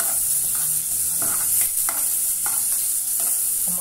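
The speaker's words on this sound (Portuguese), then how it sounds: "Uma boa refogadinha aqui." Garlic and onion sautéing in a pan: a loud, constant hissing sizzle fills the background while a spoon stirs with regular scraping strokes about every half second, close up, with no talking.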